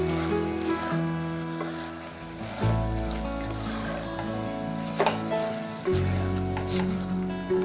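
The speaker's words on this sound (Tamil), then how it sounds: "நல்லா வதக்கிக்கலாம் கொஞ்சம்." Mutton sizzles steadily in a hot pan, a continuous frying hiss with occasional louder crackles and a faint background hum throughout.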